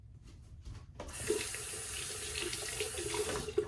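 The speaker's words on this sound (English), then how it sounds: "Just gonna rinse off the bottom part of my neck here." Bathroom tap turned on after a shave, water running steadily into a sink, a close hiss that starts after a second of quiet and continues to the end.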